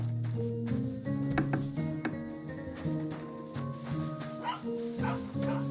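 A dog in Kingdom Come Deliverance II barks repeatedly in short irregular bursts with whimpering yips, fairly close and loud over a low ambient hum.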